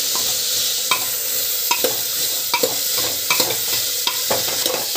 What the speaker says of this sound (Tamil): இதுவும் வந்து நல்லா வதங்கட்டும்.